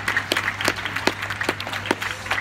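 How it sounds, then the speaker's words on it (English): A live magic show audience gives a modest round of applause, scattered sharp claps rising and falling steadily without a clear rhythm. "Give her a round of applause for looking after the box."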